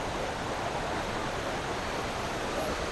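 Rushing water from a waterfall near Luang Prabang, Laos, with a drop just ahead, forms a dense, unbroken roar close by and no voices.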